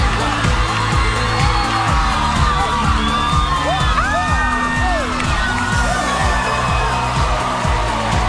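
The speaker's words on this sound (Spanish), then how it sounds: "las chicas estaban gritando por ellos" A crowd of girls in an audition audience screams and cheers loudly, with whoops and shrieks rising above a continuous roar and a thumping music beat underneath.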